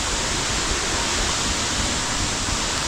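Water trickling down a creek waterfall in Bali, a steady, dense wash of close-up splashing that holds evenly for a few seconds with no other sounds on top.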